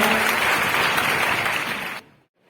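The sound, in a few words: crowd applause at a public event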